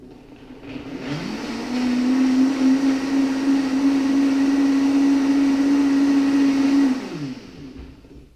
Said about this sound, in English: So put everything in the blender, turn it on.